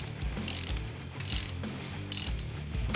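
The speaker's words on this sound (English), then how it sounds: "take that pry bar, just put it right inside the yoke" A pry bar works inside the front drive shaft yoke of a 1993 Dodge Ram W350 truck, giving repeated rattling metallic clicks and low knocks in an uneven rhythm, fairly quiet and close, with no talk.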